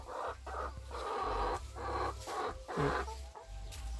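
A flock of twenty egg-laying hens clucks close by, with short repeated calls that overlap in an uneven rhythm and no one talking.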